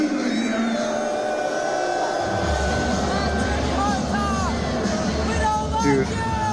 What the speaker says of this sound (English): She's getting booed.